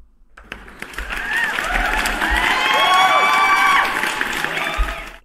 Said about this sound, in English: Let me give you guys another round of applause